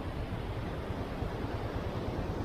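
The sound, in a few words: waterfall and rushing stream water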